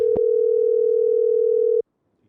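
A steady single-pitched telephone tone sounds during an outgoing call, loud and continuous for under two seconds, then cuts off into silence.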